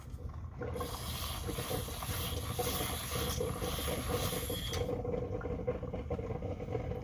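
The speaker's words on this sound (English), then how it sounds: "My frother." A milk frother in coffee gives a steady high-pitched mechanical whir that runs continuously for several seconds, then cuts off, leaving a lower hum underneath.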